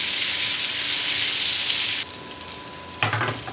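Oil sizzles loudly and steadily as a tablespoon of ginger fries for a saag tempering, then the hiss drops and shifts, followed by a brief clatter of stirring.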